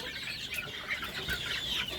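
Young chicks cluck softly and steadily, several birds close by in a farmyard with overlapping calls and no talking.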